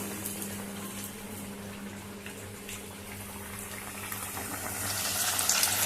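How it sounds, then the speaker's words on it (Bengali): Spicy semolina potato pockets deep frying in oil over a low flame, a steady broadband bubbling hiss that holds evenly and swells louder toward the end. "এবারে এইগুলোকে সব তেলের মধ্যে দিয়ে ডিপ ফ্রাই করব"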